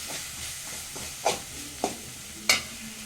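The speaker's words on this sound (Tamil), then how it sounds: "கொஞ்சோண்டு கருவேப்பிலை சேர்க்குறோம்" Curry leaves dropped into hot oil while cooking tomato rice: a soft steady sizzle with three sharp crackling bursts spaced about half a second apart, close and moderately loud.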